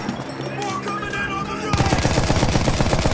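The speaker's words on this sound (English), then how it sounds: "This part of the game shows you how deadly the machine gun can be." Rapid, loud machine-gun fire from a stationary machine gun in a World War I video game, a dense continuous burst of shots that erupts abruptly after a stretch of battlefield ambience and keeps hammering to the end.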